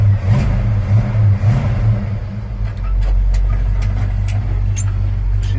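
A Ford HighBoy truck engine running just after start-up, a loud, close, steady low rumble with slight surges in revs and some faint clicking near the end.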